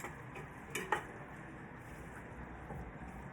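Chili with drained kidney beans is stirred in a pot, a quiet, faint mixing with soft squelching, low sizzle and a couple of light clinks from the spoon against the pot.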